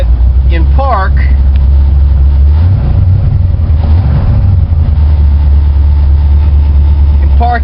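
A car engine with a nasty vacuum leak idles at around 900 rpm, giving a loud, steady low rumble, while someone talks over it throughout.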